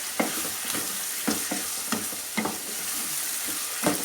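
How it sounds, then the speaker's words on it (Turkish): Chopped broccoli and onion fry in a pan, a continuous close sizzle broken by repeated scraping stirs roughly every half second. "Zaten o brokoli ile kavruluyor arkadaşlar."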